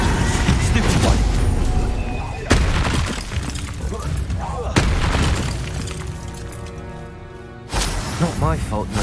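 Hogwarts Legacy spells cast in quick succession: loud bursts, booms and crackling magical impacts, with shimmering tonal effects between them and a voice talking over much of the sequence.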